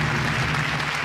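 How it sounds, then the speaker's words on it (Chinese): A television studio audience applauds the car-show promotion models, a short burst of dense, even clapping from many hands filling the room, with no talking over it. "掌声再给他们鼓励"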